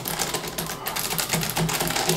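Rapid clattering keystrokes on a Razer Ornata Chroma keyboard, several keys pressed together in quick dense bursts, close and fairly loud with no talk.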